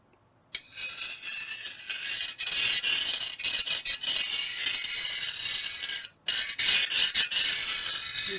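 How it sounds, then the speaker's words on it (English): A triangular scraper rasps along the steel edge of a tactical sword in a string of short, gritty strokes with brief pauses between them, close up and with no talking. "I'm going to use my triangular scraper like I did in my earlier steel on steel test"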